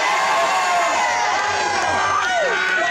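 A large outdoor rally crowd in Brisbane cheers, whoops and shouts continuously, loud and dense, with whistles and rising yells cutting through the sustained roar.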